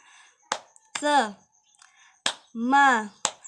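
During a classroom teaching simulation, a class does a tepuk semangat clapping chant: a few sharp, separate hand claps break up short chanted vocal phrases in an irregular rhythm, close and fairly clear.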